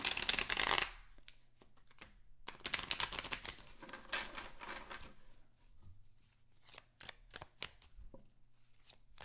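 A deck of tarot cards is shuffled up close: a loud riffling burst, a pause, then a longer riffle followed by scattered light taps and snaps as the cards are squared, no talk.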